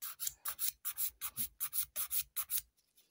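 Nail file of 100 grit rasping off a nail top coat in about a dozen quick, even back-and-forth strokes, close and crisp, then stopping.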